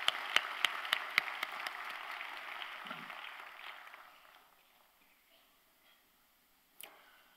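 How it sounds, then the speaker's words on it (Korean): A church congregation claps in a brief, moderately distant round of applause that fades out after about four seconds, leaving near silence and a single late knock. "우리 격려하는 마음으로 큰 박수 한번 보내겠습니다"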